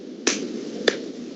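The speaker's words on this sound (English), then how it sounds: "Who's clapping?" Two sharp, separate hand claps land about half a second apart during a podcast recording. They are close, crisp and isolated, with a quiet room hum between them.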